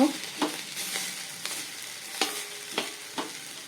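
Vegetables sautéing slowly on a low flame, a steady soft sizzle of oil broken by repeated sharp taps and scrapes of a spatula on the pan, close and with no talking.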